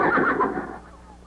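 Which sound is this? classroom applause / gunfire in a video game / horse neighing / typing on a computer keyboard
horse neighing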